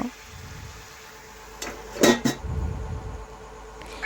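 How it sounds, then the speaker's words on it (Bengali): A lid clatters onto a pan of cooking Malabar spinach greens, a brief metallic clink and knock near the middle, with soft kitchen rustling before and after. "আমি এখন এক মিনিট ঢাকা দিয়ে রেখে দেব"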